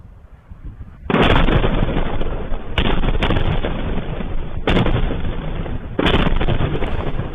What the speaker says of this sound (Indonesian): Serangkaian ledakan terdengar di kawasan Al-Deir, Provinsi Basra